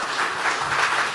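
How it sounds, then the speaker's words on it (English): Brief burst of steady crowd applause, fairly loud and continuous throughout. "Round of applause, please."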